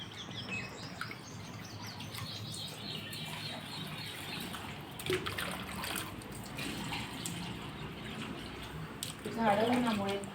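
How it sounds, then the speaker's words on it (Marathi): Water pours steadily onto dry, sun-parched garden plants, a soft continuous splashing heard at low volume with faint bird chirps around it and a brief louder burst near the end. "तर झाडांनाच पाणी देऊन घेते"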